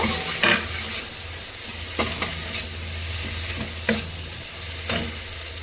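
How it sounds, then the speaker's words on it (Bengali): Onion and chopped tomato frying in a pan for an egg and pointed gourd korma, a steady sizzle with spatula stirring scrapes every second or so, close and alone. "এবার পেঁয়াজ কাটা দিয়ে দেবো, টমেটো কুচি দিয়ে দিলাম বন্ধুরা। এবার ভালো করে টমেটো গলিয়ে নেব।"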